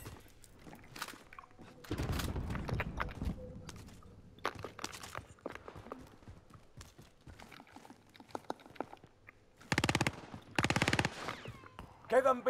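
Gunfire in the video game Call of Duty: Modern Warfare, bursts of automatic shots and single cracks in clusters, with quieter gaps between, some close and loud, others more distant.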